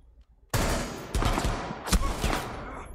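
A burst of Rainbow Six video-game gunfire erupts after a short quiet moment, with loud, dense shots and a couple of sharp, heavier blasts, no talking.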